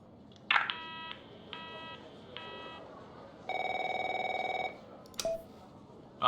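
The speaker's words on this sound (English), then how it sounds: "My phone's ringing off the hook here." A telephone in the game The Operator rings in short repeated electronic bursts, then gives a longer buzzing tone and a couple of sharp beeps, moderately loud over a low background hum.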